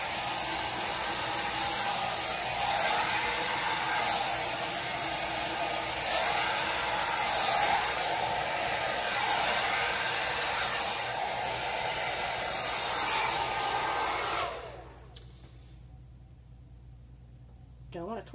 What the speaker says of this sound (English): And hair dryer time. So prepare for noise.